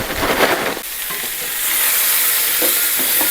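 Onions sauté in oil in a pan, a close, steady frying sizzle with stirring scrapes at the start.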